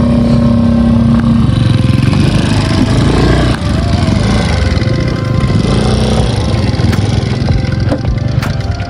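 A motorcycle engine with a stuck silencer runs loud and close on a forest trail, a steady rough drone throughout with a short dip near the middle.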